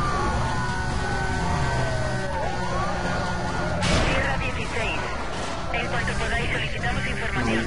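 Police car sirens wail in a chase in the racing game Need for Speed Most Wanted, loud and continuous with swooping tones over roaring engine noise, a crash burst midway, and someone talking over it.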